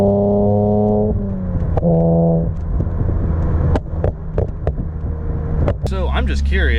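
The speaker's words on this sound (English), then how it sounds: "This is what the flame tune looks like at night." A Nissan Z with a flame tune exhaust idles and revs at night, the engine droning loudly and close before a run of sharp, irregular exhaust pops and crackles, then a final rev.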